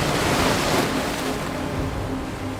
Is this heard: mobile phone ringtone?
no